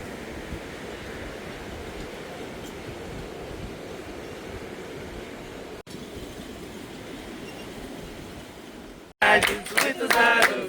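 Sea waves wash continuously at the natural pools of Rio do Fogo, heard from a beachfront restaurant as a broad, steady roar; people start singing loudly at the very end.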